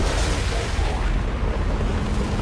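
A mech blows up in Mass Effect 2, a loud, dense roaring blast that fills the whole moment with rumbling low-end debris noise and no pause.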